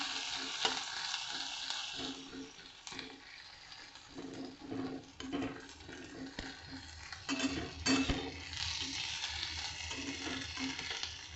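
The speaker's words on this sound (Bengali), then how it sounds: "পেঁয়াজটা আমার লাল লাল করে ভাজা হবে।" Chopped onion, crushed garlic and tomato frying in oil in a pan, a continuous close sizzle broken by repeated scraping and clinking of a stirring spoon against the metal, with no voices.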